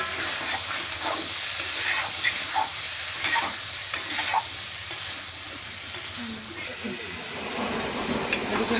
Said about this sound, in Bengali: এখন অল্প একটু লবণ দেবো দিয়ে নাড়াচাড়া করবো